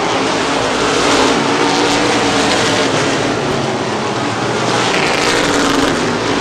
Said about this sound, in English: Gary Griffin likes that low line, almost doing a little landscaping on left front tire as he goes through 3 and 4